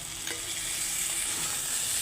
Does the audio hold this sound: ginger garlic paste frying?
yes